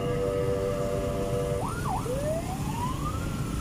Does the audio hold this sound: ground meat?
no